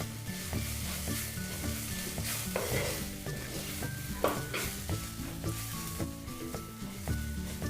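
Softened onion stir-fried with turmeric, coriander, chilli and cumin powders, a continuous close sizzle broken by a rhythmic run of spatula scrapes and pushes against the pan.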